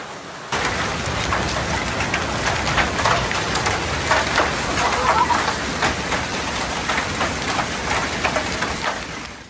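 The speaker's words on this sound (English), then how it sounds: "the rain began to fall at a moderate intensity before escalating into a downpour" Heavy rain mixed with marble-sized hailstones pounds down during a storm in Eberndorf, Austria. The hiss is dense and continuous, with scattered sharp ticks from stones striking surfaces, and runs steadily throughout with no voices.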